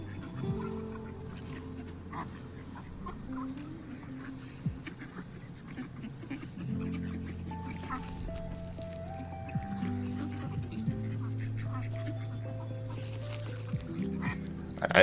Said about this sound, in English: these look like some damn happy ducks